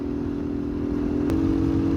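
A motorcycle ridden along a rough, worn old road past fish farms in Punjab, with a steady close engine drone, a droning hum and low rumbling road clatter throughout, and a brief tick near the end.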